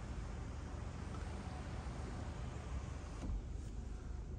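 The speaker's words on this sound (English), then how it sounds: "This model is equipped also with the panoramic sunroof. So let me open it for you to show you how that looks." The panoramic sunroof on a 2024 MG HS facelift opens electrically with a faint, steady motor whir inside the cabin, quiet and continuous.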